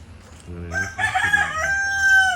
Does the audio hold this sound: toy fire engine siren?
no